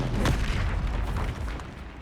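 A Bombarda spell bursts in the video game Hogwarts Legacy, a deep, loud booming explosion that hits early and rumbles on as a dense low roar for the rest of the moment.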